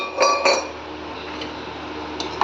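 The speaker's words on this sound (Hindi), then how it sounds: "और अब इसको चलाते रहेंगे जब तक ये उबल ना जाए" A spoon clinks against a pot while rabdi is stirred, a few sharp metallic taps near the start and end over a low steady background hiss.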